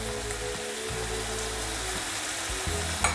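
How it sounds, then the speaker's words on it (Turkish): Meat for çoban kavurma is stirred in a hot pan as butter melts into it; a loud, continuous sizzle runs throughout with occasional stirring scrapes and no voices. "Ve bu yağımız eriyene kadar da karıştırıyoruz."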